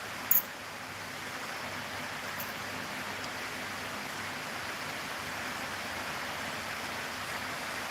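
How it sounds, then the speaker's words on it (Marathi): Heavy rain pours steadily outdoors as a continuous, even wash of hiss, with one brief sharp knock near the start. "बघा पाऊस किती मोठा आला"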